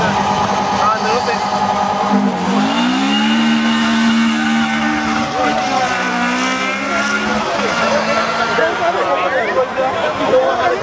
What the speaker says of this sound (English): The 400 car going again